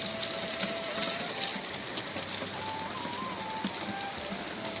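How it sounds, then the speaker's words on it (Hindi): Heavy monsoon rain pours steadily outside a house in the mountain village of Matkot, a dense, even hiss of falling water with faint patters, no speech. "ताबड़तोड़ बारिश लगी है भाई बाहर।"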